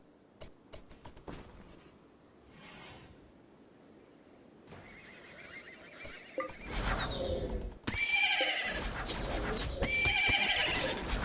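In the video game RimWorld, horses neigh and whinny during a fight, with hoof clip-clops. The sound starts faint and scattered, then turns loud and crowded in the second half.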